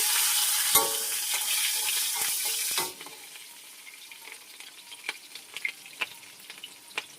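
Capsicum frying in hot mustard oil with whole garam masala, a loud steady sizzle that drops abruptly to a quieter crackle with scattered pops and stirring clicks, no voices.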